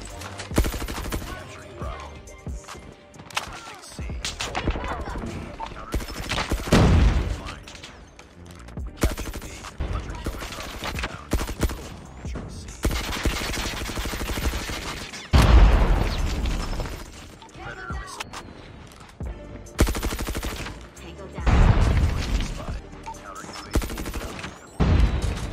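Groza assault rifle fire in a first-person shooter, long sustained automatic bursts with sharp louder volleys and occasional booms, close and dense throughout the match.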